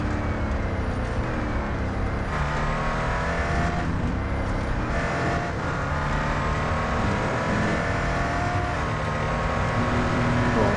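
A Koenigsegg One:1 race car engine roars in Real Racing 3, a loud sustained mechanical drone with shifting pitch that runs unbroken throughout and is heard alone with no speech.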